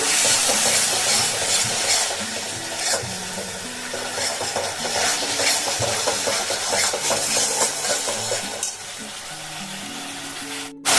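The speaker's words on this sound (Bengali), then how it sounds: "এবার এগুলোকে একটুখানি কষিয়ে নেব" Eggs and potatoes being sautéed in a pan give a steady, close sizzle of frying with stirring scrapes throughout, fairly loud and continuous, with music faintly underneath.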